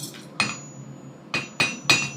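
A few sharp dog's head hammer blows on metal ring out, one early and then three in quicker succession, each with a bright clanging ring.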